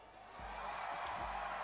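A faint crowd cheers and whoops in the distance at a Fortnite pro player event, a brief swell of audience noise rising over a low background rumble.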